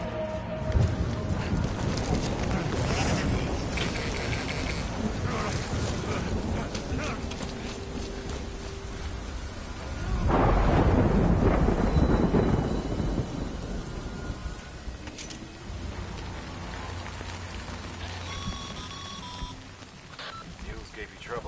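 Rain pours steadily in the stormy world of Death Stranding, with a rolling thunder rumble swelling midway and game tones and chimes scattered over the wet hiss.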